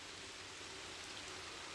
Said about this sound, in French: Il se met à pleuvoir.